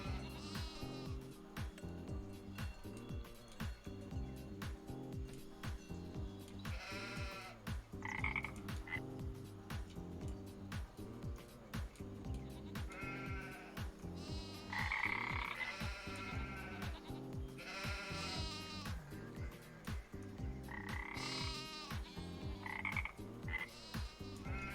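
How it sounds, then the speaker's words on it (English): Frogs croak steadily in the video game Farming Simulator 25, a dense, continuous rhythmic chorus under repeated bleating calls from sheep or goats, all loud and close with no talking. "so this one has frog noises, as you can hear"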